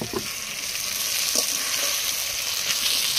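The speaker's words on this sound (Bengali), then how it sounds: "লেগ পিস দুটো খুব কম আঁচে কষিয়ে নেব যাতে মশলাগুলো পুড়ে না যায়" Two chicken leg pieces sautéing with spices in a pan over low heat give a steady, close sizzle, with a few soft stirring scrapes on top and no talking.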